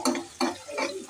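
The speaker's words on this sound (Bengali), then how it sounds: "এখানে তেল দিয়ে দিলাম আর দিলাম পেঁয়াজ" Onions go into hot oil in a pot for chicken haleem, with a few quick scraping, sizzling bursts of stirring in close succession.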